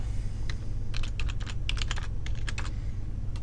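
Someone types a new password on a computer keyboard, a quick burst of close, crisp key clicks with short pauses in between, no talking.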